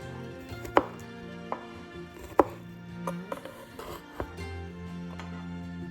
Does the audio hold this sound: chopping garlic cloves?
yes